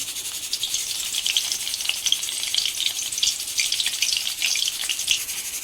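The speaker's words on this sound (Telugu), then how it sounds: "పోపు కోసం ఎండుమిర్చిలు వేసుకుందాం" Dried red chillies crackle and sizzle steadily in hot oil in a kadai for a tempering, a dense continuous frying hiss close by with no talk.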